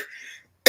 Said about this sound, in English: I got a little cough.